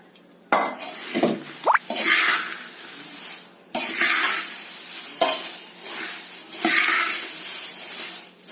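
Gulmohar chivda, poha coated in masala with a little oil, is tossed in a kadhai, giving broad rushing swishes of flakes and scraping metal in repeated waves, close and loud, with a brief clank and no voices.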